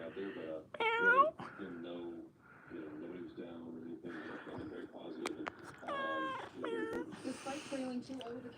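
A cat meows in several drawn-out, rising-and-falling calls spread across the stretch, fairly close, with a voice talking between and around the meows.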